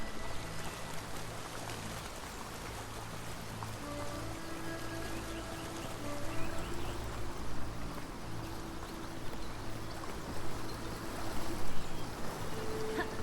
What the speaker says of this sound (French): Oh, un beau ruisseau.